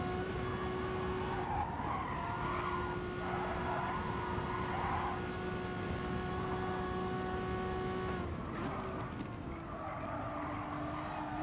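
A race car in Gran Turismo Sport laps a track with a steady high engine drone that rises and dips through gear changes, joined by occasional tire squeal, with no talk over it.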